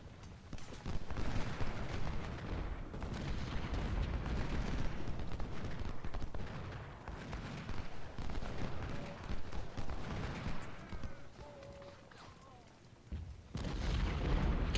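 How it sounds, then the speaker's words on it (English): Distant booms and crackling gunfire from artillery in the Civil War strategy game Ultimate General: Civil War, continuous dense rumbling battle noise throughout with no voices. "enemy artillery fire obviously coming in on these guys"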